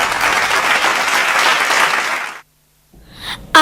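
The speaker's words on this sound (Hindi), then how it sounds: "तालियां तो बजाइए।" Loud applause from a school annual day audience in Hauz Khas rolls on for a couple of seconds, then cuts off abruptly into silence before a few sharp stray sounds.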